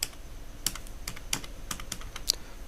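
Close keystrokes on a computer keyboard, a handful of separate, crisp clicks spaced at irregular intervals over a quiet background.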